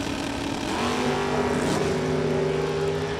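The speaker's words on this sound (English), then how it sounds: "So here we go, the Roadster and the Corvette." A Roadster and a Corvette launching side by side down a drag strip at an autocross event, engines roaring and rising in pitch together over a few seconds, loud and close.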